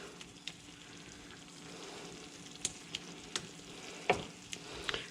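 Chicken livers for pâté sizzle in a pan with plenty of liquid over high heat, a soft steady frying hiss punctuated by sharp clicks and scrapes of quick stirring.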